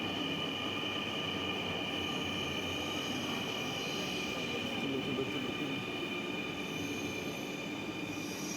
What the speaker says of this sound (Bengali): মেট্রো রেল এসে হাজির হলো।